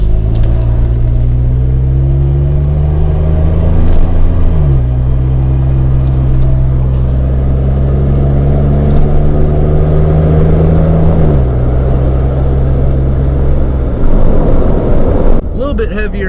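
A truck fitted with a budget exhaust upgrade accelerates hard, its engine drone rising through gear changes with a loud, close, continuous exhaust rumble.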